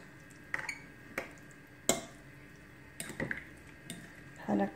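Quiche filling with minced meat being mixed in a bowl: a few scattered utensil clinks and scrapes against the bowl over faint background noise, ending in a louder clatter.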